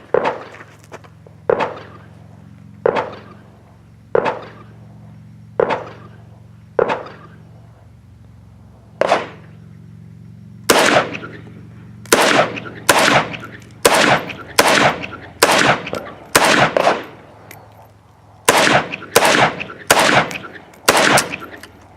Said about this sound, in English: first shots with the Century Arms C39v2 with the supplied Magwell magazine